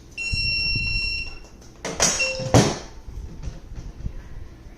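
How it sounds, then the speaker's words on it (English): A Eufy Smart Safe's tamper and move alarm sounds in shrill, steady electronic tones, followed by a few loud knocks and clatters nearby. "That is actually the tamper and move alarm."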